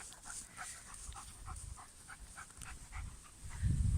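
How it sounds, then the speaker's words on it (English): A wolfhound panting softly in short rhythmic breaths, quiet and close, with a small whimper-like catch and a louder thump at the end. "My lovely wolfhound."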